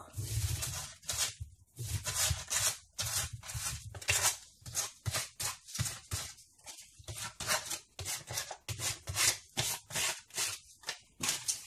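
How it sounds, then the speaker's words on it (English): Sandpaper rubbed by hand over a wooden candlestick to give it a worn look, a steady series of short, close, scratchy strokes in an even back-and-forth rhythm with brief pauses between passes. "I just went through with the sandpaper and just sanded it"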